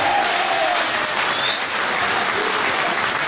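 Steady applause from an audience fills the room at a city council chamber ceremony marking 27 years of the ECA in Nova Iguaçu, continuous and even throughout.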